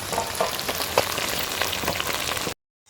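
Paneer frying in hot oil in a pan gives off a loud, dense crackling sizzle with scattered sharper pops, continuous until it cuts off abruptly near the end, with no voices.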